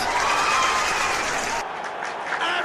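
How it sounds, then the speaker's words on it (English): Stadium crowd in the eFootball 2025 video game clapping and cheering after a goal, a loud continuous wash of applause that drops slightly partway through. "Even some of the opposing fans are clapping that."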